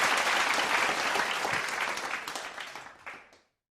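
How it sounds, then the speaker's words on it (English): Applause from a gathering at a morning devotion service welcoming a national leader, a steady wash of clapping that holds evenly, then thins and tapers off toward the end. "Let us give him a round of applause"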